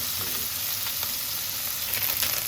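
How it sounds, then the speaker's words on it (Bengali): A fish frying in oil in a pan, giving a dense, steady sizzle and crackle that stays close and fairly loud throughout, with faint spatter pops and no talk. "ভালো করে ভেজে নেব মাছটা"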